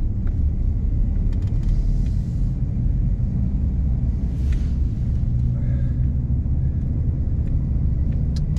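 A 2019 Dodge Ram Power Wagon pickup on 35-inch Nitto Recon Grappler tires drives along with a constant low engine and road rumble heard from inside the cab, steady and loud without pause.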